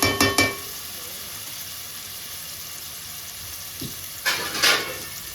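Tomatoes fry in a pan for a mutton curry, a steady soft sizzle broken by a few sharp clatters of stirring at the start and again near the end.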